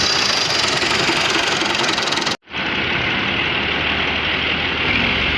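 Tractor engine chugging with a loud, steady knocking rumble close by, cutting out abruptly for a split second midway before running on evenly, no voices.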